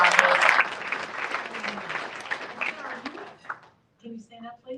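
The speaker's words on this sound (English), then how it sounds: "Let's give them all a round of applause" Audience applause at a Republican women's breakfast event in Park Ridge, a dense burst of many hands clapping that fades after about three seconds, followed by brief speech.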